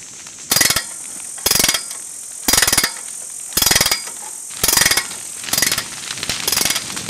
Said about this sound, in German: Gelassen beginnt Bernd mit dem Radwechsel